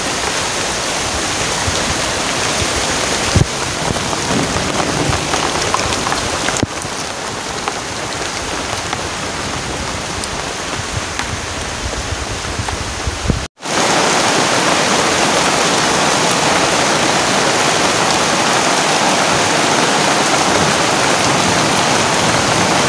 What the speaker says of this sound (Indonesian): Hujannya gede sekali teman-teman.